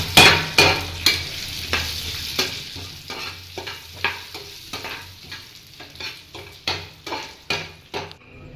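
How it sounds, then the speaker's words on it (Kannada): Grated carrots frying in ghee for carrot halwa, with a steady sizzle under repeated scraping strokes of a spoon against the pan, close and rhythmic, roughly two per second. "ಚೆನ್ನಾಗಿ ತುಪ್ಪದಲ್ಲಿ ಹುರಿಬೇಕು."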